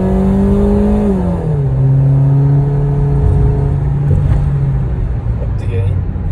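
A BMW 650 convertible engine revs up and then holds a steady drone, loud and close, with the pitch dropping and settling.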